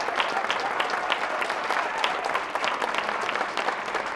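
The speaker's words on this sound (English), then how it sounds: "I would hold that applause." Audience applause at an unveiling event: dense, steady clapping from a crowd, loud and continuous throughout with no pauses or speech.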